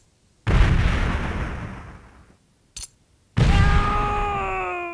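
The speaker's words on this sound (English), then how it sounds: "let me just cook a grenade and toss it on there" A grenade goes off in the video game Delta Force 2 with a loud, close boom that rumbles away over about two seconds. A short burst and then a second heavy blast follow, with a ringing tone trailing after.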